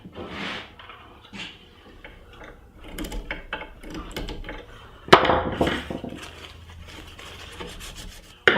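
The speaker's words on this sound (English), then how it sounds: "now I'm going to attach the lid and start to sand the top" Rough scraping and rasping of sanding across a wooden lid and top, in irregular strokes with a few sharper knocks, close and fairly quiet, no voices.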